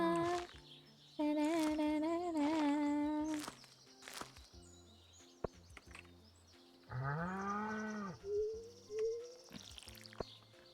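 Cartoonish farm animal calls from Stardew Valley, a cow mooing among them, rise and fall in several drawn-out tonal bursts, clear and near, with small game clicks and chimes between them and no talking.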